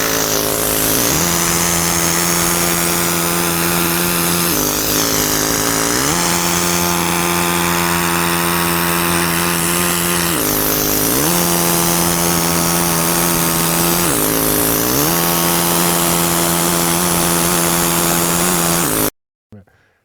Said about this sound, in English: that piston's going to start beating on that chisel pretty hard